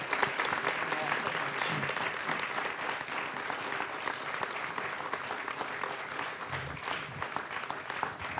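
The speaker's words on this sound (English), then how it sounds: "can we give our authors one last round of applause?" Audience applauding the authors at the close of an evening book event, with steady, full clapping from a crowd throughout and faint voices mixed in.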